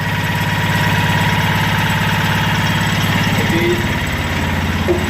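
A Mahindra Maxximo engine idling after a head gasket replacement: a steady, even mechanical drone with a regular low pulse, held at constant loudness throughout.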